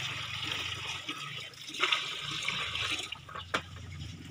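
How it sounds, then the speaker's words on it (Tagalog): Water runs steadily into a container from a hose while caring for Muscovy ducks outdoors, a continuous close rushing fill with a few brief splashy bumps. "So lalagyan natin ng tubig ito."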